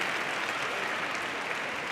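Dense, continuous applause fills a hall at a university graduation ceremony, a steady wash of many hands clapping without pause.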